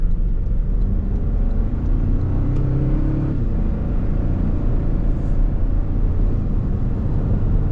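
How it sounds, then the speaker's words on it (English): A Toyota Tacoma pickup truck accelerates from inside the cab, a loud low rumble with engine tones climbing in pitch as it gathers speed, steady road noise throughout. "There you can hear what the truck sounds like getting up to speed."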